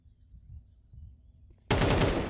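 Counter-Strike gunfire during a BLAST Premier match: after a faint low rumble, a loud burst of rapid automatic shots erupts and continues to the end.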